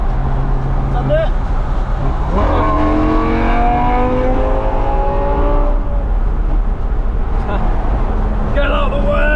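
A Lamborghini's engine roars and climbs through rising revs while accelerating on a motorway, heard from inside the car under excited shouting from the occupants.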